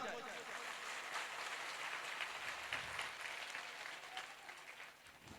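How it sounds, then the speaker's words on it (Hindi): A crowd at a Shrimad Bhagwat Katha religious gathering claps in a dense, steady wash of applause that holds loud for the whole stretch and thins slightly near the end. "एक बार सलाम के रूप में आपकी तालियां हो जाए"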